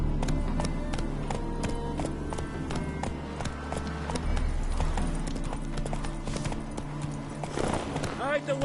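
Roach, the horse in The Witcher 3: Heart of Stone, gallops with steady, rapid clip-clop hoofbeats, loud and close, over continuous game ambience and music, with a brief whinny or rider sound near the end.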